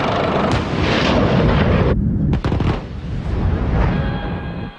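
A tank's main gun fires during a gunnery engagement, a loud heavy blast with a sharp break and rumbling after-roar, surrounded by constant mechanical noise inside the vehicle.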